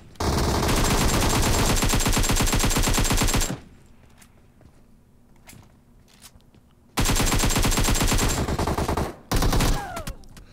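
Automatic gunfire from PUBG Mobile erupts in two sustained, loud machine-gun bursts separated by a quieter gap with faint, scattered shots and footsteps.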